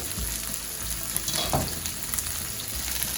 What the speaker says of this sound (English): Now I'm just going to cook it on medium heat for about 5 minutes or so, just until the red peppers are cooked through